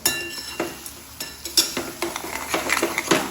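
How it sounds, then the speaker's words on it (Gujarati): A spoon scrapes and stirs a thick gram flour mixture in a pan, with irregular clinks and scuffs against the metal over a faint sizzle. "આ રીતે મસ્ત એને હલાવી લઈશું"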